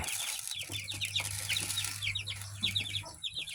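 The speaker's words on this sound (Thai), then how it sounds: "ให้อาหารไก่" Chickens clucking and calling at feeding time on a Thai farm with young gamecock chicks, a busy flock of repeated clucks close by over a low steady hum, no talk.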